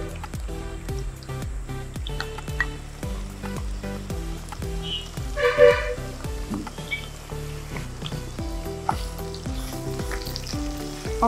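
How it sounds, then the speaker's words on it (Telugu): Green chillies fry in a hot pan with a steady, close sizzle, joined now and then by stirring, all without any talk over it. "కొంచెం ఈ పచ్చిమిర్చి వేగాలండి."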